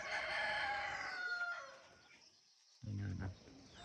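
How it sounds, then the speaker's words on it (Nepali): Chickens and chicks in a traditional Nepali hill village give a faint rooster-like crow that fades out, then a short burst of clucking after a brief quiet gap. "कुखुरा चल्ला"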